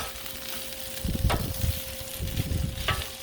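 Chicken fried rice sizzles and crackles steadily on a Blackstone griddle, with a couple of louder scraping stirs breaking through the even frying hiss.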